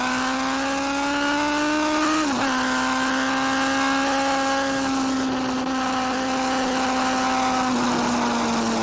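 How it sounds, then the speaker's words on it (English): A 1980s AMA superbike racing motorcycle at full throttle while pulling a wheelie, a loud, sustained high-revving engine whine heard close, with pitch dips around shifts. "I'm coming out of turn 9, I'll pull a wheelie for you."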